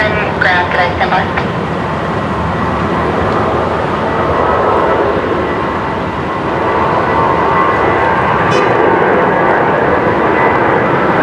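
An airliner's engines drone steadily as it taxis at Brisbane Airport, a loud, continuous roar with a few faint brief sounds near the start.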